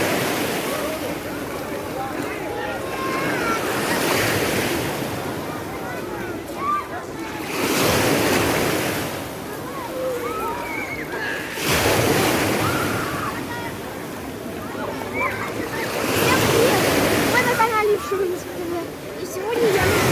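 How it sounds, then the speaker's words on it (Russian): Small waves of the Black Sea wash ashore in repeated slow surges, each swell of surf rising and fading every few seconds, with wind buffeting the microphone throughout. "Смотрите, какое море. Сегодня нам повезло. Небольшие волны, прозрачная вода."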